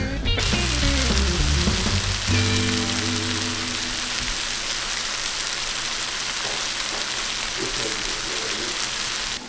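Mushrooms cooking down in a full pan for a pheasant recipe, giving a steady, dense sizzle like rain that runs unbroken throughout, with a low tonal hum during the first few seconds.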